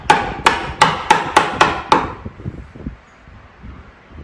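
A chisel is struck into wood while making a book press, with six sharp, evenly spaced mallet blows close up. Quieter knocks and handling noise follow.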